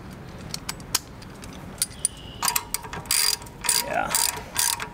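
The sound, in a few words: ratchet socket wrench turning bolt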